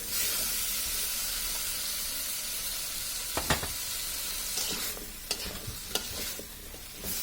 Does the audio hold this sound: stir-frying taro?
yes